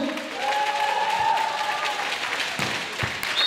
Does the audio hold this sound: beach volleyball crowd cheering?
yes